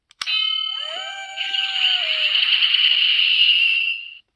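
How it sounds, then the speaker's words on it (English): A Power Rangers Morpher toy rings an electronic bell when its ear is pressed: a sharp click, then a bright sustained ringing chime with falling tones that swells into a dense shimmering ring lasting several seconds before cutting off. "You press the ear, that's basically going to ring the bell."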